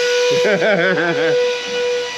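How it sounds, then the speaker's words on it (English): Steady loud hissing steam with a high whistle tone, joined briefly by a wavering, warbling pitched sound that rises and falls before the hiss settles back alone. "You got Donnie the steam machine cranking."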